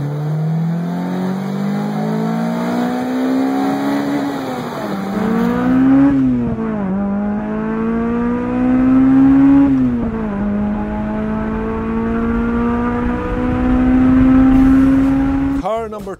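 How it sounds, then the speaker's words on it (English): A Toyota 2ZZ engine revs repeatedly toward 8000 RPM, its pitch climbing high and dropping between pulls, loud and close, ending with a sharp final blip. "they rev up to 8000 RPM and sound just beautiful"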